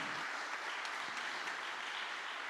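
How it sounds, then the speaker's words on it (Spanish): Congregation clapping in a church service, a steady wash of applause, faint and somewhat distant, continuous for a couple of seconds. "Dale un aplauso al Señor."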